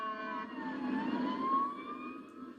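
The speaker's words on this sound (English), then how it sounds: "Sirens sounded again in Litchfield tonight." Fire engine sirens wail at night in Litchfield during a fire response, a steady rising and falling tone heard from some distance at moderate loudness.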